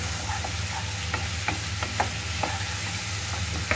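Beef kidney and liver sizzle steadily in a pan for kolija bhuna, with scraping and clinking stirring strokes breaking through the constant frying hiss at close range.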